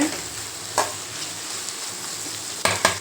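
Bitter gourd sautés in a pan over a low flame, a soft steady sizzle with a few sharp clinks and scrapes of a spatula stirring, quiet and close with no talk.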